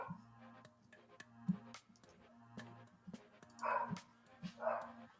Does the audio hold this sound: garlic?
no